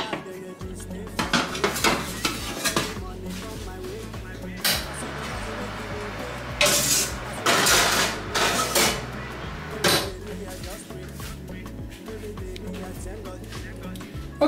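A metal lid clanks onto a pot of stewing meat amid clattering cookware and utensil clinks in a home kitchen, with sharp bangs and a person talking throughout.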